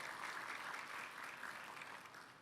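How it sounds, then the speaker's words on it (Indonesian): A congregation at a church sermon breaks into lively applause, an even, continuous patter of many hands that fades slightly toward the end, with no talking. "Kasih tepuk tangan yang meriah buat Tuhan."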